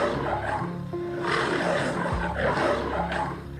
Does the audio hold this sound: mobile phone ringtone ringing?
no